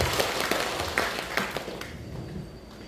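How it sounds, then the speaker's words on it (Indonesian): A church congregation claps during a Sunday sermon, a fairly faint burst of applause with a few sharper claps, fading out over a couple of seconds. "Tepuk tangan dulu yang meriah buat Tuhan."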